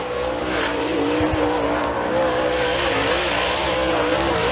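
A super late model race car roars through a qualifying lap at Thunder Mountain Speedway, engine droning steadily loud and close with a continuous wavering pitch and faint tire noise.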